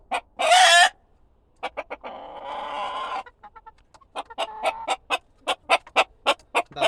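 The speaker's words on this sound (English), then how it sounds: "These are our Houdans. A very rare breed of French poultry." Rare French Houdan chickens in a poultry pen: a loud squawk at the start, then a run of sharp, evenly spaced clucks close by. No voices are heard.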